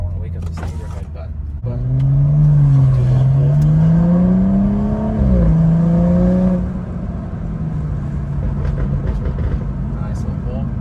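Hard acceleration from a sports car, a Porsche GT3 RS or McLaren 720S, heard from inside: the engine note climbs steadily through a long loud pull, dips briefly at a shift, rises again, then settles to a lower cruising drone.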